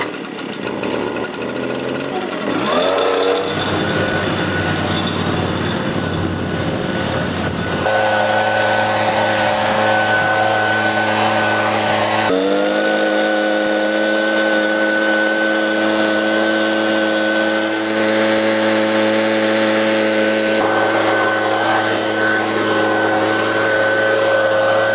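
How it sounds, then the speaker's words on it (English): A gas-powered leaf blower running on TruFuel 50:1 premixed fuel starts with a short pull and then runs steadily, its loud engine drone shifting as the throttle changes, heard outdoors in a yard. "I'll just start it up here first."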